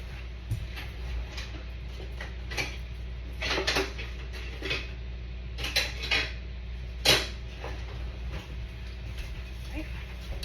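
Rummaging through kitchen utensils to fetch a spatula while making buttermilk cornbread: scattered metallic clinks and clatters at irregular intervals, fairly close, over a low steady hum.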